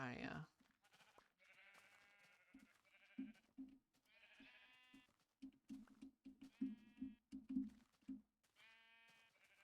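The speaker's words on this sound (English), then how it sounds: "let's punch this sheep. Get the wool" Repeated sheep bleats in the Minecraft Infdev video game, a dozen or so short cries, several spaced apart early and then coming faster and clustered toward the end, loud and close with no talking.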